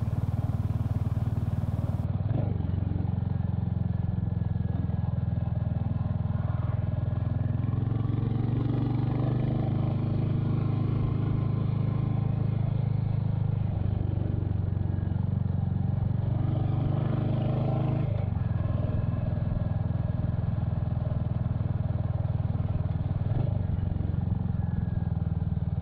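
A Hurricane motorcycle engine, still being run in, runs steadily on the road, a constant low rumble with wind noise and occasional clatter, close and continuous throughout.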